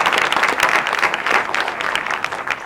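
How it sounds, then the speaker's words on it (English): A full audience gives loud, sustained applause at an arts event Q&A, with dense, even clapping that continues throughout. "Give them all a big round of applause."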